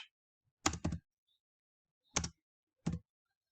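Four brief, quiet key taps on a computer keyboard, a quick pair followed after a pause by two separate single strokes, in an otherwise silent room.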